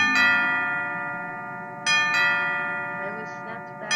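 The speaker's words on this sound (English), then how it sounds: "I was snapped back into reality by the sound of the bell announcing noon." A bell announcing noon in the video game Symphonic Rain rings out in clear, sustained tones. It is struck several times, and each strike fades slowly over a soft, low background.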